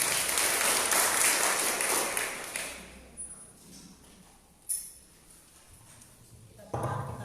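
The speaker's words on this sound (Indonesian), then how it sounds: "Berikan tepuk tangan bagi Tuhan Yesus." A church congregation applauds during a service: a dense burst of clapping fills the first few seconds, then fades into quieter room sound with a few scattered knocks.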